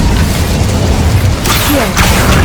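Casting the Incendio fire spell in Hogwarts Legacy gives a loud, roaring burst of flame, with a sharp whooshing flare about halfway through that fades into a continuous rumble.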